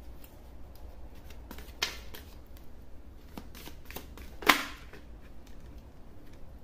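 Tarot cards being shuffled and handled, with soft papery riffles and a couple of sharper snaps and flicks standing out over a quiet room hum.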